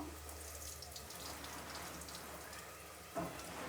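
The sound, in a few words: draining water off salted raw chicken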